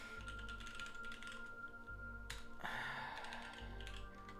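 Code being typed on a computer keyboard, quiet rapid key clicks in irregular bursts close by, with a short pause midway and no talking.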